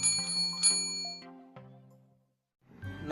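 A subscribe-style notification bell chimes twice in quick bright strikes, then its ringing tones decay for about two seconds before a brief low swell at the end; there is no voice.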